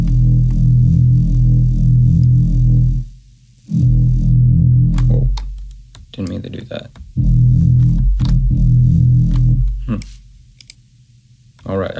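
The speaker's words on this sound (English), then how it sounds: "I was automating the amount of the distortion" A synth bass patch in Harmor plays with its distortion amount automated, sounding as loud buzzing sustained low notes that cut off between phrases, with clicking and other sounds filling the gaps.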